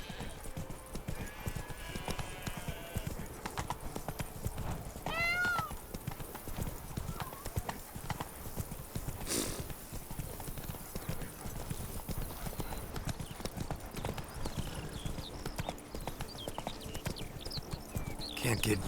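Roach, Geralt's horse in The Witcher 3, clip-clops steadily at close range, a regular hoof rhythm running throughout with a brief whinny, under ambient game sound and voices talking.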